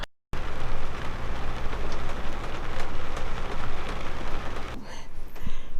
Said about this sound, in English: It's raining outside a lot, but I think we have a little bit of a leak right here.